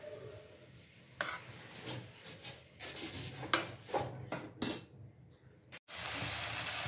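Spiced cluster bean curry with red chilli powder, coriander powder and salt being stirred in a pan, a close series of uneven scraping and rubbing strokes against the metal, then a steady sizzle near the end.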